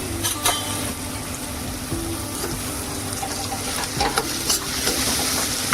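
Spices including turmeric and asafoetida are stirred into sizzling hot oil while cooking a Maharashtrian val bean sprout dish, giving a steady fry hiss broken by scraping stirs, close and fairly loud.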